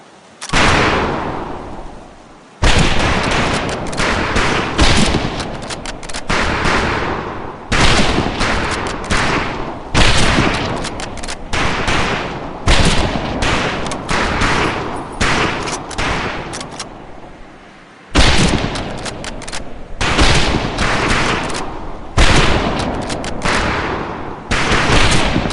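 Rifle fire on a military shooting range in the World War II game Medal of Honor: Pacific Assault, loud sharp cracks repeating in dense volleys with brief pauses between strings of shots, no talking.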